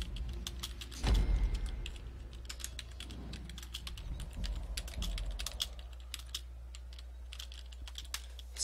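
Keys clatter on a computer keyboard in quick irregular bursts, close and fairly quiet, typed during a GTA V Online melee challenge session with a low engine-like hum and a brief thump underneath.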